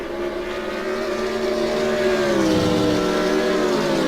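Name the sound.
BMW Z4 race cars at Monza in a sim racing video game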